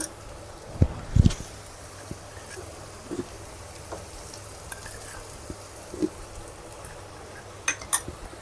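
Turmeric stirred into a pan of frying baby corn and mushroom masala, with a soft steady sizzle under scattered clinks and scrapes of a spoon against the pan.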